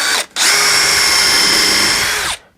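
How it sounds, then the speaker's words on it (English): A power drill countersinks screws into wood in one loud, close, sustained whine after a brief start and pause, then stops abruptly. "But I'm going to do is I'm going to countersink them."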